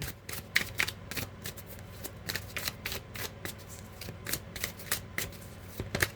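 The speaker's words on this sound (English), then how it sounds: "Get a good shuffle here." A tarot card deck is shuffled repeatedly, a run of crisp riffling flutters and soft slaps coming in quick bursts, close up with no talking.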